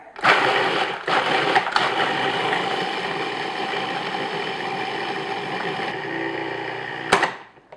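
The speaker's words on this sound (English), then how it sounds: "I'm just going to process that until they become crumbs" A food processor grinds loudly and steadily for several seconds, processing ingredients into crumbs for cheesecake squares, its motor droning with a harsh whir before cutting off abruptly near the end.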